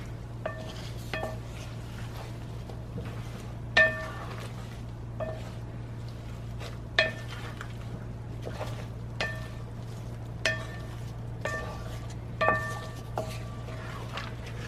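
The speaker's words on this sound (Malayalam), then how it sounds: "ഇത് നന്നായിട്ടൊന്ന് മിക്സ് ചെയ്ത് കൊടുക്കണം." A metal spoon scrapes and clinks against a pan while fried fish is stirred into pickle masala for Kerala fish pickle, a steady series of sharp taps and knocks over a low steady hum.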